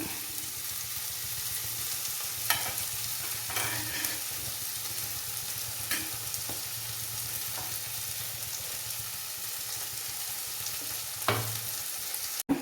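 Vegetable pieces for sambar sauté in a pan with a steady sizzle, broken by a few scattered stirring scrapes and taps and a sharp knock at the very end.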